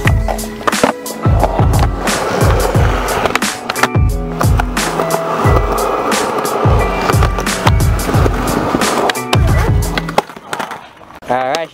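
Skateboard fitted with custom griptape rolls over a surface with a steady series of rhythmic clacks and thumps from the wheels hitting joints, loud and close, with a brief quieter stretch near the end.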